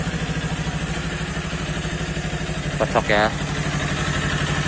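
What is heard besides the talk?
motorcycle engine started and idling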